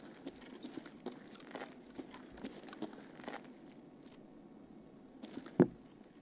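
Footsteps of an unseen player in the video game Escape from Tarkov, a string of faint, soft irregular steps moving around nearby, followed by one louder, sharper impact near the end, with no talking.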